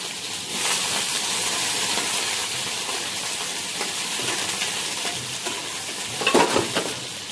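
Potato and eggplant sizzle in a frying pan with a steady, close hiss while being stirred. Brief scraping bursts stand out near the end.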